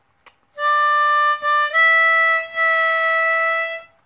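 A harmonica plays a steady drawn note at a constant pitch, with a couple of short breaks, and no bending.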